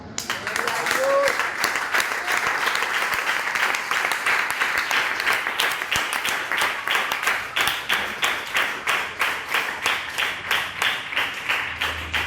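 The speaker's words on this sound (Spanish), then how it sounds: "Le daré un aplauso al Señor." A church congregation applauds steadily, sustained clapping that grows into a rhythmic, beat-like pattern toward the end, with a voice briefly audible early on.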